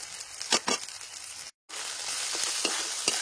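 Spice paste is stir-fried in oil in a village-style kitchen with chopped tomato, salt and turmeric. A steady sizzle carries a few sharp stirring scrapes and breaks off briefly in a short silent gap before resuming, close and without speech.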